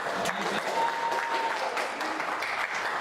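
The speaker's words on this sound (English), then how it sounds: "we can even clap for her." Enthusiastic applause from an audience at a university convocation fills the room, continuous clapping with a few cheers mixed in.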